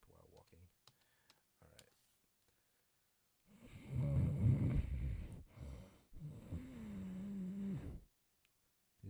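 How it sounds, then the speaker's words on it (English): A guildmaster snores by the fire in Hero's Quest, played through a Roland MT-32. Keyboard clicks come first, then two long synthesized snoring breaths, each swelling and holding for a couple of seconds. "The man seated by the fire must be the guildmaster. He is snoring."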